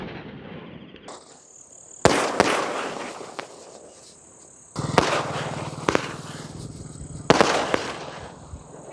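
A 30-shot firework box set off in water, Sivakasi Diwali crackers, giving a series of loud sharp bangs in separated bursts followed by crackling and hissing tails, close by and with no talking.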